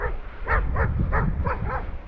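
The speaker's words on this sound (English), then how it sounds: "a dog is antagonizing the little pony." A dog antagonizing a small pony in a field barks five times in a fairly even rhythm, sharp and close, over a low rumbling background.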